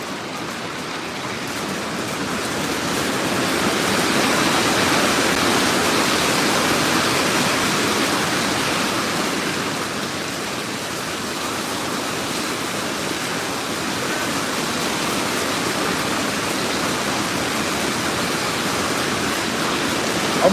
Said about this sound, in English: That sounds like hail right there.